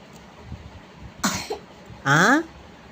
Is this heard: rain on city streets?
no